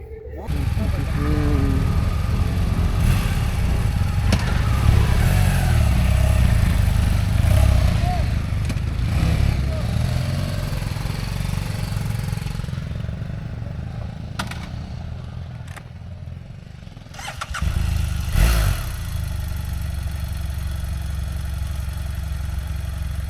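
A KTM 390 Enduro off-road motorcycle engine idles and revs steadily at close range for a long stretch at a race event in Nepal, with people talking over it and a brief lull near the end.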